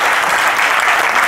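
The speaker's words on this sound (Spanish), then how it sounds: "Un aplauso para él." An audience at a talk on Spanish exiles applauds, dense continuous clapping, loud and close, with no pause.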